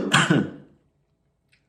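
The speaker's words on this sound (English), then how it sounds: "And here I am coughing, which I don't plan to edit out." A single close cough breaks the quiet, fading into near silence before a short sound cuts in at the very end.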